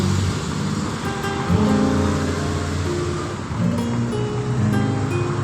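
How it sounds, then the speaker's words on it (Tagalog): Many vehicles pass along a busy street at night, making a dense, continuous roar of engines and tires with overlapping drones and rising pulls from passing traffic. No one speaks. "Daming sasakyan."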